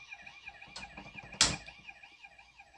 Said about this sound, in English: Sirens, exactly.